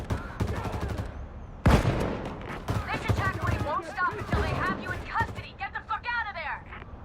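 Video game gunfire in bursts: a sharp loud volley, then scattered shots and rapid fire, mixed with game effects and chirpy sounds, no one speaking.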